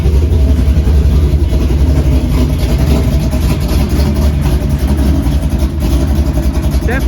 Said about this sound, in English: Go ahead and let it idle here for a minute.